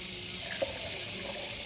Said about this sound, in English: I'm using two teacups of water to my blender